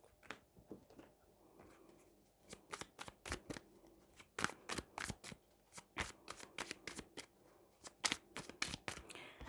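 A deck of blue oracle cards being shuffled by hand, a long run of crisp, rapid riffling flutters and slaps in uneven bursts, close and fairly quiet, with no talking.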